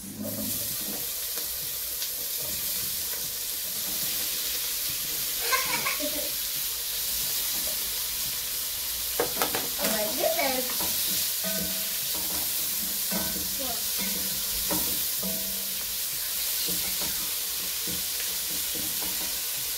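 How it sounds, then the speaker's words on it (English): Tomatoes fry with translucent onions in a pan for matoke in groundnut soup, a steady loud sizzle throughout with intermittent scraping stirs and clinks. "I'm going to add in our tomatoes, which I'm going to fry for just a minute or 2 minutes."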